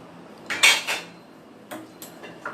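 A metal saucepan is set onto a kitchen stove to boil, giving a few sharp clanks and scrapes of metal on metal in two short bursts against a quiet room.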